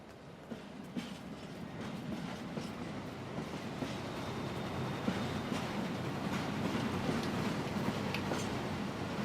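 A train rolling along tracks in HITMAN 2's Mumbai level, a steady low rumble with faint rhythmic clacks and rattles, continuous and moderately distant with no talk.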